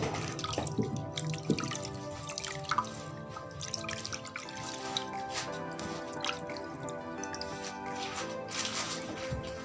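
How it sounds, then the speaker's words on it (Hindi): Running tap water splashes over hands being washed after a sugar and yogurt skin scrub, with steady drips and squishy rubbing sounds close by and continuous throughout. "अब आपके सामने मैं अपना हैंड वॉश करती हूँ"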